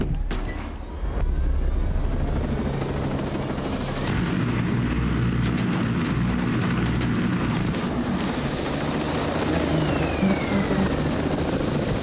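Helicopter in Ghost Recon Breakpoint flying close with a steady, loud rotor and engine roar that holds throughout, shifting in tone partway as it moves, with no talk.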